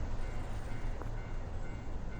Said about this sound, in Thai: มีเสียงรถไฟนะครับผม